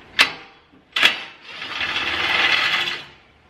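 Impact wrench driving small bolts on a third-generation Toyota Tacoma: two short sharp bursts followed by a longer steady rattling run of about a second and a half, loud and close with no talk.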